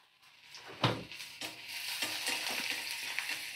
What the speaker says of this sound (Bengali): তো কাঁচা লঙ্কা আর পেঁয়াজ দিয়ে দিলাম। তো ভালো করে আমি নাড়াচাড়া করে নেব।